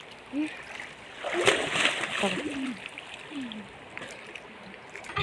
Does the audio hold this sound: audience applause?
no